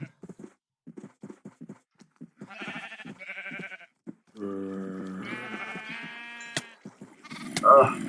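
Several bleats, harmonic and wavering, sound from a Minecraft sheep amid game sound effects, with short clicks and tones before and a brighter burst at the end.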